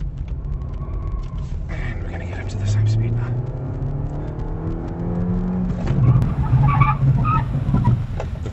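A car braking hard with ABS keeping the wheels from locking, heard as engine and road roar with rising tonal tyre or brake noise and rapid pulsing toward the end, with people talking over it.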